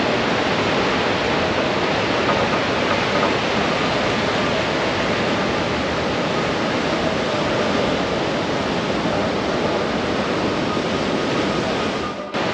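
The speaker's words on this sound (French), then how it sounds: "Essaouira, côté Atlantique, avec des vagues incroyables ce soir" Atlantic Ocean surf at Essaouira, Morocco, in the evening: a steady, loud, broadband wash of breaking waves rolling on without pause, with a little wind in the mix and no voices.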